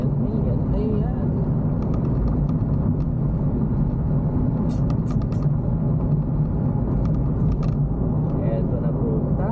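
A Lalamove delivery vehicle speeds along a road between Capas and Paniqui in Tarlac, its steady engine and road rumble loud and continuous from the cabin, with occasional voices in the vehicle.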